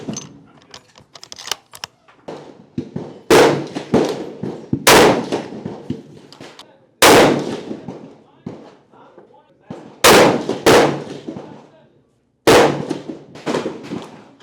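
Christensen Arms Ridgeline Titanium rifle firing 150 grain bullets outdoors, five sharp loud shots spaced a few seconds apart, with quieter clicks and handling noises between them.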